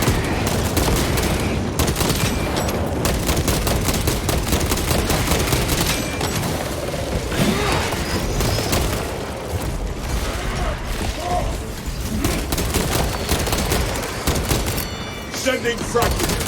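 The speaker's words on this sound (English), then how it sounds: "Unleashing frag grenade." Heavy combat in the video game Space Marine 2, with dense continuous gunfire and a frag grenade blast, loud and close throughout, with game voices speaking over the din.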